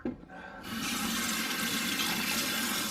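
Water gushes steadily from a tap after a brief start, a loud continuous rushing stream filling the short stretch with no voices.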